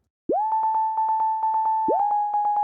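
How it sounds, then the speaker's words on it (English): A pure analog synthesizer sine wave with glide swoops up into a steady pitch and pulses in quick rhythmic bursts, then slides up again and repeats. "I'm using analog to make this sound because I just need a basic sine wave"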